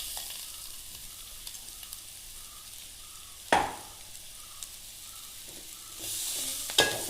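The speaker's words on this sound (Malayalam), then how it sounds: "ഇനി നമുക്കിതിലേക്ക് ഉടച്ചു വെച്ചിരിക്കുന്ന പൊട്ടറ്റോ എല്ലാം കൂടെ ചേർക്കാം. എന്നിട്ട് നല്ലതുപോലെ ഒന്ന് ഇളക്കണേ." Mashed potato being stirred into softened fried onions in a pan for masala dosa filling, with a soft continuous sizzle, rhythmic scraping and a couple of sharp spoon knocks on the pan.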